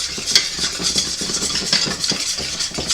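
A paste for scallop chowder being stirred in a pot, giving steady scraping and clinking of the utensil against the pot, close and fairly loud, with no voices.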